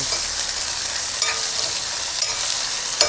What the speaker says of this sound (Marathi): आता कांदा टाकायचा एक कांदा टाकला कांदा टाकला